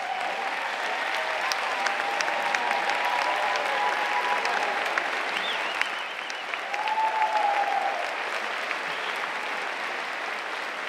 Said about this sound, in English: would all the parents, grandparents, siblings of these great kids please stand so we can applaud all of your efforts?